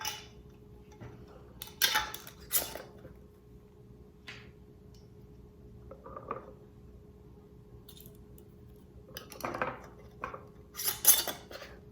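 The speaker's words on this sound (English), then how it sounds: "I'm gonna get the lids on these" Metal lids being placed on glass canning jars of homemade pizza sauce in a kitchen, a few scattered light clinks and taps separated by quiet pauses over a faint steady hum.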